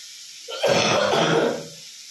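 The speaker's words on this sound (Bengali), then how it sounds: "খুব কাশি হয়েছে, অনেকদিন ধরেই কাশি।" A person coughs in one rough, throaty burst lasting about a second, close and loud, from someone with a long-lasting cough.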